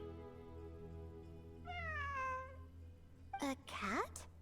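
A cat meows in a video game, two separate drawn-out cries, the second sharper and more broken, set over a low steady background hum, with faint talk around them.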